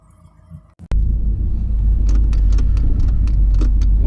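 A third-gen Camaro with a 5.3 LS swap, Holley Sniper EFI and TH400 transmission pulls away, a loud deep engine rumble kicking in suddenly after a brief quiet moment and a clunk, then droning steadily up close.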